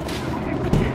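Gunfire in the video game Mirror's Edge Catalyst beta, a dense, continuous rattle of shots filling the whole second, with a louder, heavier burst near the end.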